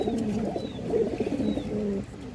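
Pigeons kept on a Bangladeshi farm coo softly and repeatedly nearby, a low rolling burble with brief pauses and no talking.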